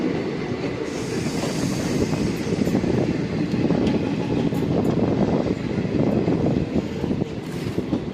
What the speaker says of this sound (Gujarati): જો મિત્રો લોકલ જઈ રહી છે, લોકલ વહી જાય છે.